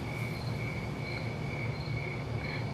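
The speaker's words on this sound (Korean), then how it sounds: "이게 숲에서 나는 약간 귀뚜라미 소리 같은 느낌?" Steady, high insect chirring like crickets in a forest setting, a continuous pulsing trill over a low ambient hum, constant and moderately loud with no talking.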